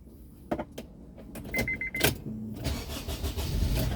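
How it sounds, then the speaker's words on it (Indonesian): A 2003 Honda CR-V 2.0 automatic being started: clicks and a brief whirring crank, then the engine catches and settles into a steady close idle inside the cabin. "Oke, sekarang kita coba nyalakan mobil."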